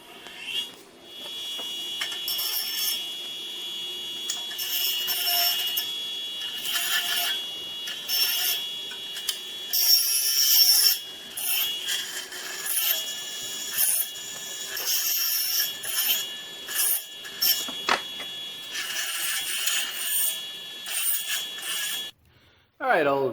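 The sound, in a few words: deburring sharp edges of cut metal trailer brackets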